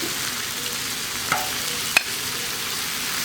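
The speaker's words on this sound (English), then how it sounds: "Get our bacon on here. What we want to do is crisp this bacon up." Bacon crisping on a flat-top griddle set to medium high, a steady moderate sizzle and crackle with a couple of sharp pops, no talking.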